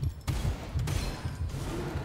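Sniper rifle shots from the first-person shooter Gunfire Reborn, a few sharp cracks in quick succession over game noise and reverb, with no talking.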